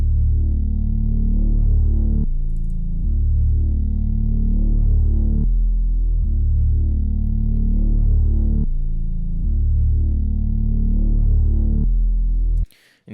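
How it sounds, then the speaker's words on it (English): Growler Moog bass synth patch from Omnisphere, played in a dark trap loop: deep, heavy sustained bass notes changing pitch in long steady phrases, loud and alone with no voices. "the Growler Moog bass from Omnisphere"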